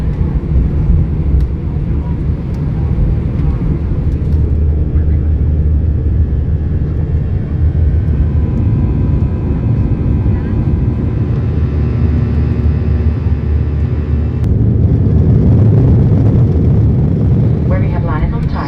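Inside an airliner cabin on a flight to Palma de Mallorca, a loud, steady low drone of engine and air noise runs the whole time while a voice talks over it.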